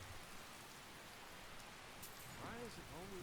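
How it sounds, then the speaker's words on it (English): Steady rain falls in a Skyrim-style video game, an even, soft hiss of dense drops throughout, joined near the end by a voice speaking over it. "Why is it always raining?"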